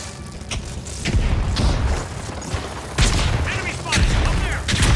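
Video game gunfire comes in repeated heavy bursts of booming shots and rattling volleys, loud and close, with short quieter gaps between the bursts.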